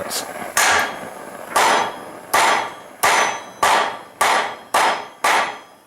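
Hammer blows on a hot rivet for a riveted stand for a 150 lb Trenton anvil: nine sharp, ringing metallic strikes at a steady rhythm, loud and close, each decaying before the next, with no talk.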